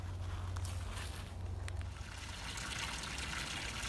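Water runs into an 18 ft Coleman above-ground pool as a soft, continuous trickle and splash, with a low hum in the first half and a few faint knocks.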